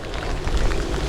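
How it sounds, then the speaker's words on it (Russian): Steady rain falls outdoors as a dense, loud, continuous hiss and patter with no pauses, close by and with no voices over it. "Да, дождь идет."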